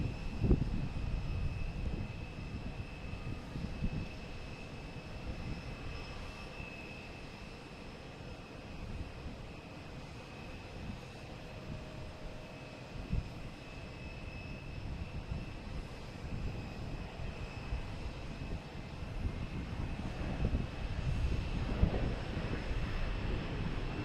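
An American Airlines Airbus A321 jet arriving from Philadelphia at Boston Logan Airport gives a steady, moderately distant engine roar that swells toward the end, with wind buffeting the microphone throughout.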